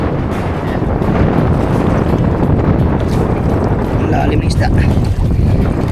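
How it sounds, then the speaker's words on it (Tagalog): Strong wind roars against the microphone in a steady broadband rush with waves and water noise on a fishing boat at sea, continuous throughout while someone speaks briefly over it. "mas pinalakas pa ang hangin at alon"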